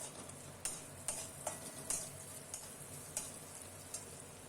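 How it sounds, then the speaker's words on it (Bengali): Spice paste for Bengali banana flower curry (mocha ghonto) fries in a pan while being stirred, giving a faint, steady sizzle broken by soft, evenly spaced metallic scrapes and taps of the spoon. "এই মশলাটাকে একটু ভালো করে কষিয়ে নিতে হবে।"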